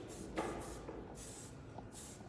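Bursts of fine mist from a hair oil spray bottle during a razor haircut, several short hissing sprays in a row, close and fairly soft, with no talking.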